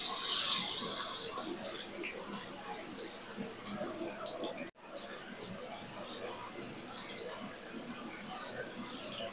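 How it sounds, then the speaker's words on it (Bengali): Okra dropped into hot oil in a wok, giving a steady sizzling hiss that starts louder and then settles into a continuous crackle, with a brief break midway. "তেল গরম হয়ে গেছে, আমি এবার ঢেঁড়সগুলো দিয়ে দিচ্ছি।"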